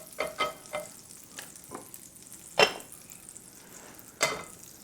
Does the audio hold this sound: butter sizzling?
yes